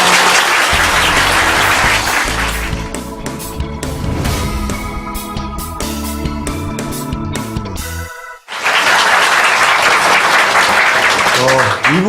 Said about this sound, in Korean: 자, 그러면 두 분께 박수 부탁드려요.